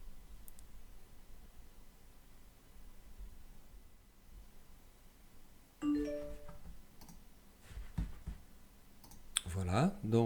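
Computer mouse clicks on a Mac while software installs, a few sharp, quiet clicks near the end over a steady low hiss, with faint handling noise.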